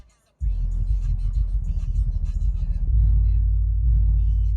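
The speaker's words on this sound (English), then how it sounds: "woofer's still playing" Deep, heavy bass thumps from a truck subwoofer powered by an NVX 2700.1 amp kick in after a moment of silence, a loud droning low rumble that swells stronger near the end, engine off.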